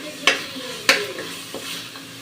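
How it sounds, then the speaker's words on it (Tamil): Onion, tomato and ginger-garlic paste sautéing in a pan for Chettinad chicken, with two sharp stirring scrapes and soft sizzling in between, close and fairly quiet. "இந்த வெங்காயம், தக்காளி, இஞ்சி பூண்டு எல்லாம் நல்லா வதங்கி வந்ததும்"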